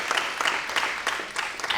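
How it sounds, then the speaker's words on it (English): An audience applauds a guest speaker at the close of a talk, a brief burst of dense clapping from a modest crowd, fairly close and continuous without speech. "Let's give a round of applause for Nicole."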